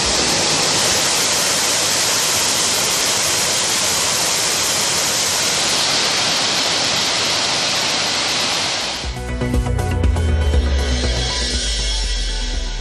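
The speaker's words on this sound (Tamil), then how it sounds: "மேகமலை வனப்பகுதிகளில் பெய்த கனமழையால் சுருளி அருவிக்கு நீர்வரத்து அதிகரிப்பு" Suruli waterfall in full spate after heavy rain in the Meghamalai forests, a dense loud continuous roar of falling water that shifts partway through to a closer, rumbling churn.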